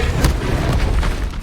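A Confringo explosive spell goes off in Hogwarts Legacy, a loud, dense booming blast with rumbling low end and brief bursts of crackle, sustained throughout the short moment.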